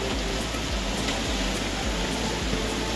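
Steady rain pouring down, heard from a balcony as a dense, even hiss of drops on surfaces, continuous and fairly loud with no talk.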